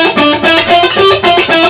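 Distorted rock electric guitar picked on the two middle strings, a quick stream of notes with a driving, even pulse, loud and close with no voices.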